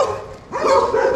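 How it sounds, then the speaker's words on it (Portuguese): Several dogs bark and yip in a village street in rural Apiacá, Brazil, loud and close, with a brief lull before a burst of overlapping barks. "Aqui tá uma cachorrada tremenda."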